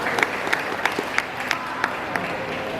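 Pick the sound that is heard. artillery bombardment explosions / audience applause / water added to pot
audience applause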